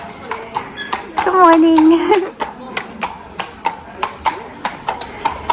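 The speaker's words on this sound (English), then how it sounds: "You've got people coming through town on horses." Horses clip-clopping through a Cotswolds town street, a steady rhythm of hoof strikes on hard road close by, with people talking and a greeting exchanged partway through.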